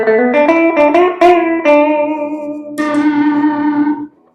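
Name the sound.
electric guitar through Notadumble overdrive pedal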